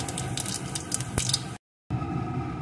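Dried chili and whole cumin seeds fry in hot oil with a close, steady sizzle and small crackles, broken by a brief moment of silence before the sizzling resumes.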